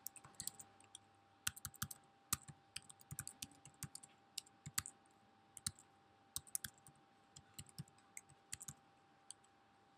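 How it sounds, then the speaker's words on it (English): Slow, hesitant typing on a computer keyboard, with scattered single keystroke clicks and short clusters spaced irregularly across a quiet room, faint and close. "Told you my typing was slow"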